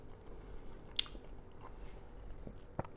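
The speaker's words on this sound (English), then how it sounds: "Sorry if you can hear me chewing, I just need to get a sugar." Soft, close-up chewing and biting sounds with a few sharper crunches against a quiet background hiss.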